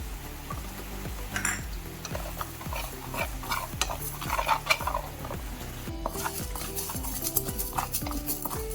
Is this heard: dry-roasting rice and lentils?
yes